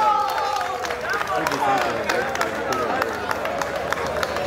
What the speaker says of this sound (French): applaudissez très fort pour De